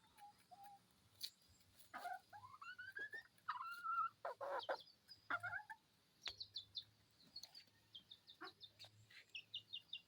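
Crossbred chickens and roosters clucking and crowing in a series of short, varied calls, fairly faint, with quiet background hum and no talking.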